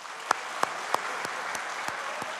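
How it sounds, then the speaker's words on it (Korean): Light applause at a public event celebrating an investment in reclaimed land, with a few sharp, distinct claps standing out over a soft, thin patter. "우선 감사의 박수 한번 드리겠습니다."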